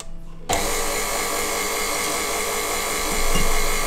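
A stand mixer starts abruptly at low speed while mixing dry dough ingredients for Nutella braided buns, then keeps up a steady, close whirring motor hum.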